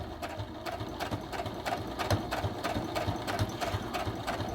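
Sewing machine stitching fabric for a book sleeve, a steady fast run of rhythmic needle clatter with a low motor hum, close and continuous throughout.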